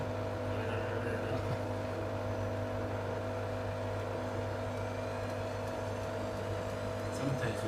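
Blomberg WMI7462W20 integrated washing machine spinning an unbalanced load of jeans, giving a steady loud droning hum with a constant rumble and faint rattling throughout, while people talk faintly over it.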